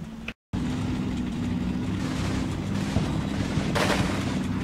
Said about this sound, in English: These assholes are shooting again.